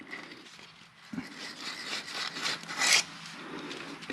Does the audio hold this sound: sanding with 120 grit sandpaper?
yes